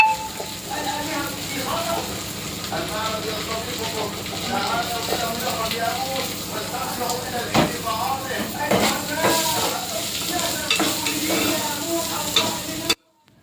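Rice being stirred into vermicelli frying in a pan, with a steady sizzle and repeated scraping and clinking of a spoon against the pan throughout, close and fairly loud, with a faint television-like voice in the background.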